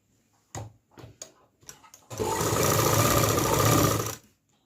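Sewing machine stitching fabric for a salwar: a few short clicks and starts, then a steady, loud continuous whirring run of about two seconds that stops abruptly, with no talking.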